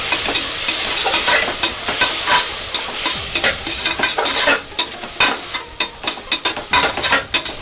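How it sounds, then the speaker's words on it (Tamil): Vegetables and peas sizzle and fry in a pan while being stirred for a korma, with scraping strokes that become rhythmic toward the end, close and fairly loud. "இப்போ நம்ம போட்டதெல்லாம் நல்லா வதங்கிட்டே இருக்கு."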